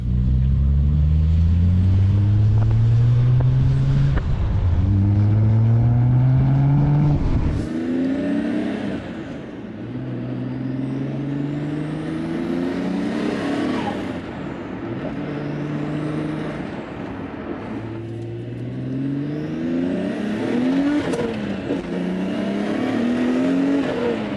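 A Nissan Skyline R32 GT-R resto-mod on the road, its engine rising loudly through repeated gear pulls, each rev climbing then dropping at the shift, with a steady close drone throughout.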